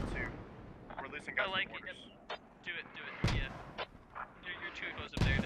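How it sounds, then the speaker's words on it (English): Mortar fire in the video game Squad, with several sharp booming impacts and distant gunfire scattered under excited talk from players over radio chatter. "Good mortar fire."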